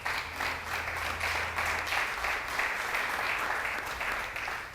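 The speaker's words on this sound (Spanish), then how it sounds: "Un aplauso al Señor por los de multimedia." A church congregation applauding during a service, a sustained wash of many hands clapping at moderate distance for several seconds, steady and fairly even throughout.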